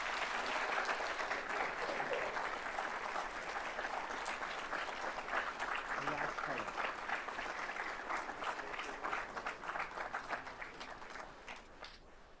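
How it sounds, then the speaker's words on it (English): Audience at a business school awards ceremony at Lincoln Center gives sustained applause, a dense wash of many hands clapping that holds steady for several seconds before gradually thinning out at the end. "So let's give another round of applause to all these Majas winners."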